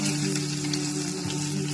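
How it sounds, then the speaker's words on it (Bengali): An egg sizzles and fries steadily in a hot pan, a dense, even crackle with a low hum underneath, continuous and close for the whole stretch. "ডিমটা আমি ভাজা ভাজা করে নেব"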